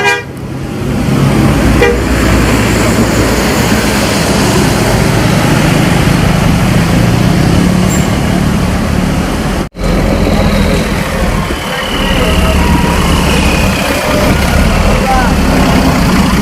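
Non-economy MPM bus on the Padang–Sukabumi route pulls in and idles at a terminal, a loud continuous engine drone with horn toots and a voice talking over it.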